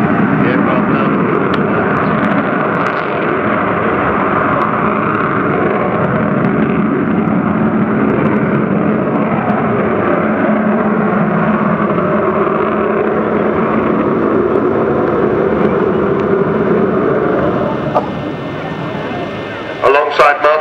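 Avro Vulcan XH558 bomber flying at the Cosford airshow, a loud, broad jet roar that holds steady for most of the time before fading near the end.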